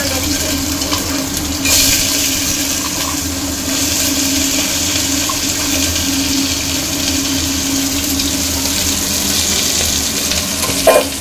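Onion tempering sizzling in hot oil for dal, a loud, steady, dense sizzle with a brief burst as it flares, continuous and close throughout.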